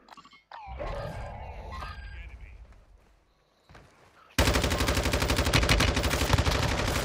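Close, loud automatic gunfire in the video game Call of Duty Warzone, a sustained rapid burst in the latter half after a grunting voice and quieter game sounds.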